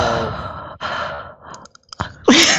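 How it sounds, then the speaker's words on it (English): Heavy breathing close to a microphone during a Star Wars: Galaxy of Heroes livestream comes as loud, airy sighing exhales, broken by brief pauses and clicks, with no clear speech. "Who's breathing?"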